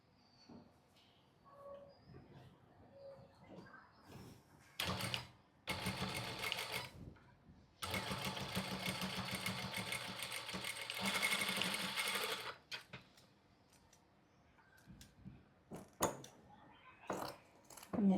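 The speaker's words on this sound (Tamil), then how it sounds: "இப்போ தைக்க போகிறேன்." An electric sewing machine stitches a saree latkan tassel in several bursts of steady whirring and rapid needle chatter. Each run lasts a few seconds, with quiet handling clicks and rustles between them, heard up close.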